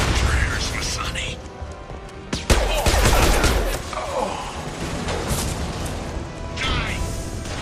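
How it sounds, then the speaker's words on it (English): A concussive shot fires during a Mass Effect 2 firefight, one heavy booming blast amid cracking gunfire and impacts. A voice shouts over the combat noise. "Firing concussive shot!"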